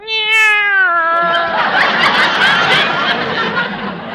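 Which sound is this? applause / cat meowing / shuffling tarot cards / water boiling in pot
cat meowing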